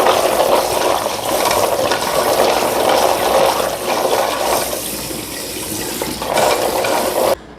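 Raw peanuts are washed by hand in water, a steady close sloshing and rushing of water that stirs the nuts around, with loud continuous splashing that cuts off abruptly at the end.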